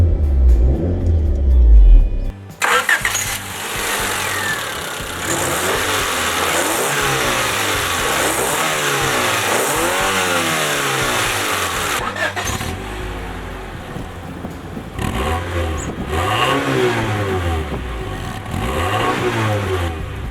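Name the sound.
1993 Honda Prelude S engine revving and exhaust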